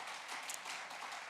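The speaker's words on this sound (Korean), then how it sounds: "자리 박수 한번 해주시기 바랍니다." A church congregation applauds at a special dawn prayer service, a soft, brief burst of clapping heard faintly from a distance.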